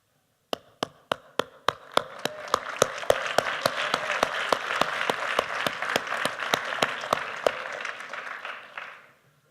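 At the 2017 Atlanta Veg Fest, a talk audience breaks into applause: a few separate claps build within seconds into sustained full-room clapping, then fade out quickly.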